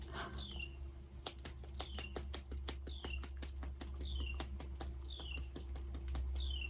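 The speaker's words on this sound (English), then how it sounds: "I love that the birds are starting to chirp again." Short high bird chirps repeat every second or so in the background, mixed with close clicking taps and a low steady hum.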